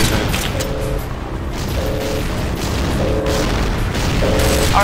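Continuous rumbling combat in the video game Empires, with booming explosions and gunfire blending into a dense, steady din while a short alert tone repeats about once a second.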